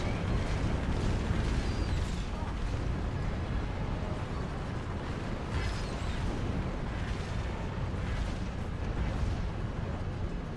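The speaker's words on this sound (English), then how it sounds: "Look at all this gunfights." Dense gunfire and explosions in WARNO with a Halo mod, a continuous loud roar of overlapping bursts and booms throughout.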